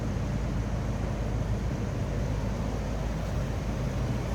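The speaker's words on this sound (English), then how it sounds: "What you'd expect a '76 Electra to sound like." A smooth, steady low rumble of a 1976 Buick Electra 225 Limited engine idling, constant and even throughout with no voices.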